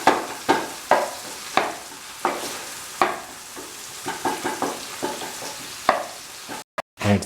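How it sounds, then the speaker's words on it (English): Onions and other ingredients for a simple mushroom masala stew are squashed into thick gravy in a pan, making a series of close, wet, broadband scrapes and squelches with irregular spacing and short pauses between strokes. "Squash the ingredients so that it becomes a mush"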